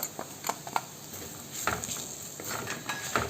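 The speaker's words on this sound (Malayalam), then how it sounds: "അതുകൂടി ചേർത്തിട്ട് നന്നായിട്ട് വഴറ്റിയെടുക്കാം" Ground pepper masala sautéed with beef in a pan, a spoon stirring and scraping through the mix over a steady low sizzle, with a few sharper clinks and taps close by.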